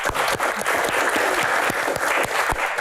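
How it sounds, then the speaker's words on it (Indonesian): An audience applauds at a motivational event in Indonesia, a loud, full burst of many hands clapping continuously, with individual sharp claps poking out of the dense wash. "Tepuk tangan luar biasa."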